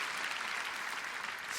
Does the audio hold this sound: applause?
yes